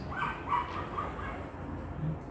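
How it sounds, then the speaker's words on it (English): A dog gives several short yips and barks at moderate distance, scattered over the first second, then a quieter, muffled stretch of room noise follows. "Oh, doggy."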